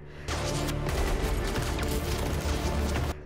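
Dense, continuous volleys of gunfire from soldiers chasing a fleeing man across a minefield in a war film, loud and close, crackling without pause for about three seconds.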